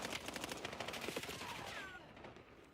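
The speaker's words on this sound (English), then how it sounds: "what a hail of gunfire" Rapid gunfire from a Call of Duty esports match, dense repeated bursts like automatic weapons firing, fairly quiet and continuous for a couple of seconds before tapering off.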